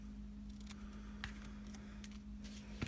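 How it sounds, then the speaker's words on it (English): Scissors cutting a paper banner, a few quiet snips spread over a few seconds against a steady low hum. "So again, I'm just going to cut my banner."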